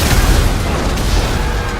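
Tank exploding in GTA Online, a loud, dense boom with crackling, rumbling debris that stays sustained for under two seconds, no voices.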